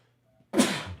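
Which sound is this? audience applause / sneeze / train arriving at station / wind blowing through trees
sneeze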